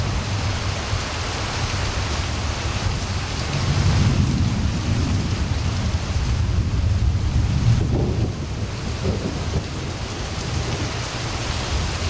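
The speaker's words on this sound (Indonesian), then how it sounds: "kalah dengan suara hujan ya, sama suara hujan juga kalah, soalnya kencang di luar" Heavy rain pouring outside at a campsite, a loud dense hiss with low rumbling swells, steady throughout with no voices.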